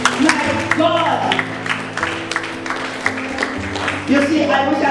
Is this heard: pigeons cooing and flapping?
no